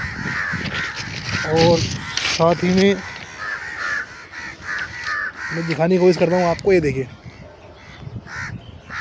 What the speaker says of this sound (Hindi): ये देख सकते हैं आप काफ़ी सारे कौए